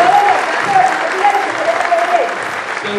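An audience at a team presentation event applauds loudly and continuously, a dense wash of clapping close by, with a voice briefly audible underneath.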